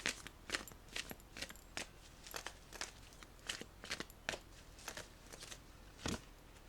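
Tarot cards are shuffled by hand in a quick run of soft, papery riffles and slaps, close and quiet with no talk.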